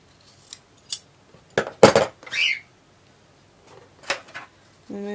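Scissors snip through fabric pieces for a penguin plush: a handful of crisp, close cuts in an irregular rhythm, with brief pauses and quiet handling between.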